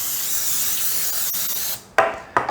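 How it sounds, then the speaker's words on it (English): Cooking spray hisses in a steady, close burst onto parchment paper lining a baking pan, then stops, followed by two short clunks as the can and pan are handled. "I'm going to spray that also."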